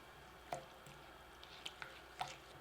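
Pudding mix and milk are stirred with a spatula, giving faint, soft wet squishes and a few light clicks at irregular moments against quiet room tone.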